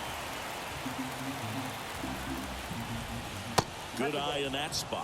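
Steady rain falls on a baseball field in the video game MLB The Show 24, a constant hiss throughout, with a sharp crack near the end and a commentator's voice over the rain.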